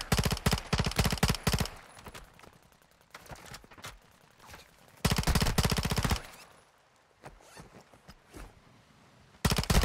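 Automatic weapons fire in Call of Duty Warzone 2.0 Resurgence on Ashika Island, with several long, close machine-gun bursts broken by quieter gaps that hold scattered distant shots.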